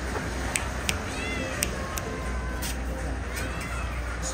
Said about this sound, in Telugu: పిల్లి భలే ఉన్నాయ్యా